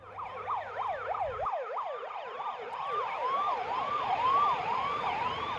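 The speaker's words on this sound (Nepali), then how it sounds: "यसरी आपतकालीन साइरन बजाउँदै कोरोना भाइरस संक्रमितलाई आइसोलेसनतर्फ लगिने दृश्य" Ambulance siren carrying coronavirus patients to isolation in Dang, a rapid rising-falling wail repeating steadily, moderately distant and continuous, with a faint low engine rumble at first.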